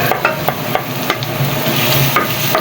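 Seasonings being sautéed in a hot pan for Batangas-style lomi: steady close sizzling and frying with repeated light stirring scrapes, loud and with no voices.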